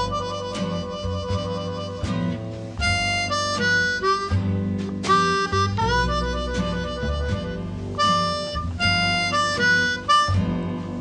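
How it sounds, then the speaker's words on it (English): Blues harmonica warble, with the player rapidly shaking between adjacent holes so reedy chords flutter and trill, sustained and loud up close, alone without speech. "one of them is going to be the warble, which sounds like this."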